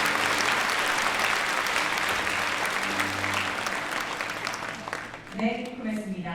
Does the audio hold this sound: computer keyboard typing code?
no